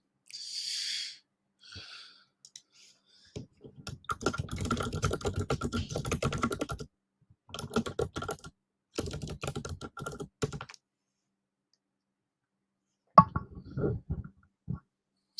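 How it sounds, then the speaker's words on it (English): A clicky Razer gaming keyboard typed in bursts of rapid, crisp mechanical key clicks, close and fairly quiet, with pauses between runs and no talking. "It's like a Razer gaming keyboard, but it is very clicky, isn't it?"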